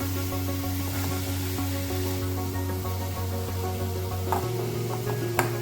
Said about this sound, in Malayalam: ഇത് എണ്ണയിൽ ഇങ്ങനെ ഇട്ടിട്ട് നമുക്കൊന്ന് വേവിച്ചെടുക്കാം